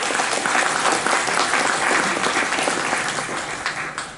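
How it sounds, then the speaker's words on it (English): Steady applause from an audience, a dense wash of clapping sustained for several seconds and thinning slightly toward the end. "Let's give a round of applause for Anish."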